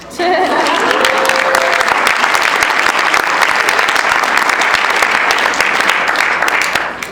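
An audience at the MARS opening ceremonies keynote in January 2013 breaks into steady, dense applause that sustains evenly for several seconds before stopping, with a brief voice just at the start.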